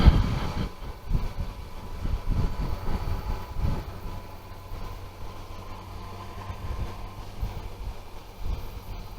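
Low, rumbling train noise in a rail yard at Alliance, with heavy thuds and rolling rail sounds at first, easing into a steady distant drone.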